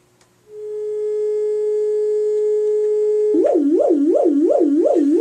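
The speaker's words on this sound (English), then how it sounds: "Let's take another sine wave." A pure, steady synthesizer sine tone hums alone, then a second tone joins that warbles up and down in a regular wobbling rhythm.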